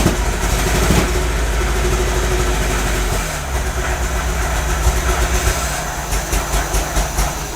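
A classic MGB engine runs rough and uneven without its choke, a loud, dense mechanical rumble with irregular pulsing and a noticeable shift in tone partway through, close up and alone.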